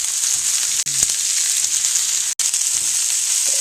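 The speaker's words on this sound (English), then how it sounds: "Make sure you have a good sizzle in the frying pan" Steady, bright sizzle of onions frying in a hot pan, continuous hiss with a couple of brief stirring knocks.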